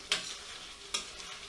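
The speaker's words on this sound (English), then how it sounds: "Stir that around, you can see this burbling, caramelising," Chicken pathia sauce burbling and caramelising in a pan, stirred with two sharp scrapes against the pan edges over a steady low sizzle, close and alone.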